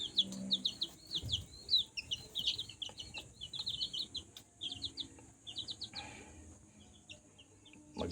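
Young chicks in a drum brooder chirp in quick, high bursts, fairly close, with faint background noise and no talking.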